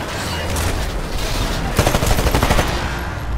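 Rapid bursts of gunfire in the video game Titanfall crackle continuously, a dense volley of shots that intensifies briefly midway, with no one speaking.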